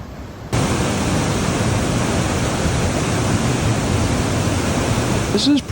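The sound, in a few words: powerful waterfall at Box Canyon Falls, Ouray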